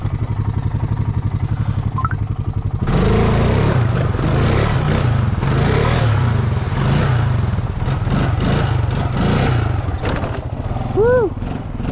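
A dirt motorcycle with smoking exhaust revs hard through deep ground while attempting a wheelie, its engine roaring loud and close. A voice talks over it.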